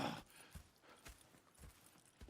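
Horse hooves clip-clop in Red Dead Redemption 2, a steady walking rhythm of soft thuds at moderate distance, fairly quiet with no voices.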